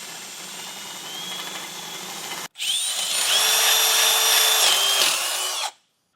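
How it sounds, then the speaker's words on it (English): A power drill whines steadily, pauses briefly, then bores again at a higher, strained pitch while widening a hole in metal with a 17/32 bit, before stopping abruptly; close and loud. "we'll take a 17/32 drill bit and get that widened out"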